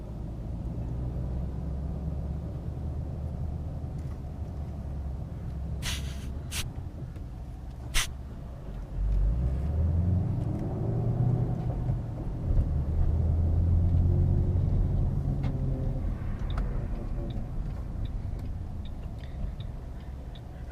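Ford Shelby GT500 with a Lund Racing tune, its engine droning low and steady from inside the cabin as the car cruises, swelling louder midway as it pulls harder, with a few faint ticks over the rumble.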